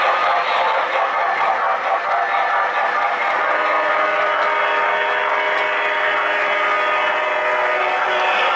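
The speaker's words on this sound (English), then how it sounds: "we'll just end this video with a couple of minutes of enjoying watching the trains" Lionel and MTH O gauge model trains run on a home layout, giving a continuous loud rolling rumble and hum of wheels and motors with tonal whine throughout, no pauses.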